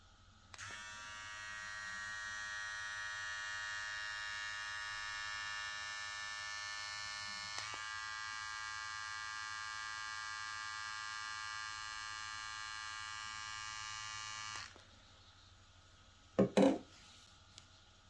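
A VGR V071 electric hair trimmer runs at a steady, close buzz for about fourteen seconds, then switches off, followed by a brief handling clatter.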